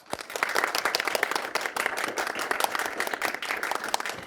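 A smaller group applauds the podcast and technical team, with crisp, individually audible hand claps that start quickly and run at a lively, uneven pace.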